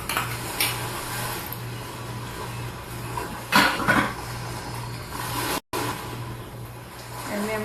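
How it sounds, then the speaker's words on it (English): A salad with drained black olives being tossed together in a bowl, soft scraping and rustling with a couple of louder clatters of utensils against the dish, close and moderately quiet with no talking. "we're just going to kind of toss this all together"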